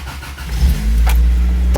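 A 1986 Toyota Tercel 4WD engine cranks and catches, then settles into a steady, loud idle close by, with a brief sharp knock just before the end.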